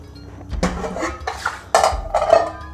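A metal pot is handled and set on the stove to cook mutton, giving several close clanks, knocks and scraping clatters of cookware spread over a few seconds, with no talk.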